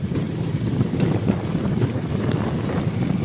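Dense, roaring rush of heavy typhoon rain mixed with buffeting wind noise, loud and continuous, with no voices.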